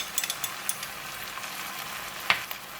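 Yee mee noodles stir-fried with chili bean paste, sesame oil and oyster sauce: a steady close sizzle with light clicks of tossing, and one sharper scrape near the end.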